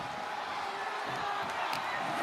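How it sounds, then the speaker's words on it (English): Arena crowd noise in the WWE 2K25 video game during a Brock Lesnar versus Roman Reigns casket match, a dense roaring cheer with a few whoops, under steady commentary. "What a raucous crowd here tonight."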